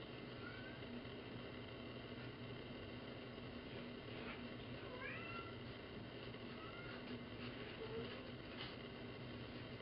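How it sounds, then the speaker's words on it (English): Cat meowing and crying from behind a closed door to be let into the room, several faint drawn-out mews scattered over a steady background hiss. "My cat's crying to get in here."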